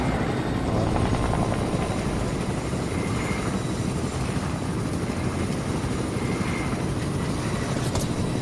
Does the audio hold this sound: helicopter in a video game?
yes